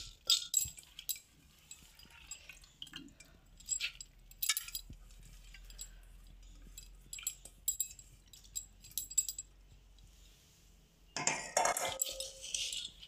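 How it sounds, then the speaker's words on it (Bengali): Biulir dal lentils are tipped into a pressure cooker. Scattered metallic clinks and taps are followed near the end by a louder, rattling rush as the lentils pour into the pot. "প্রথমে আমি ডালটাকে সেদ্ধ করার জন্য প্রেসার কুকারে দিয়ে দিচ্ছি।"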